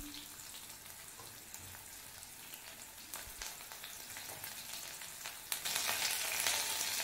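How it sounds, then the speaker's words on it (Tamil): Small shallots sautéing in oil in a pan, a soft continuous crackle and sizzle with a few faint scrapes, growing louder and hissier near the end. "வெங்காயத்தை 1 நிமிஷம் நல்லா வதக்கி விட்டுக்கோங்க"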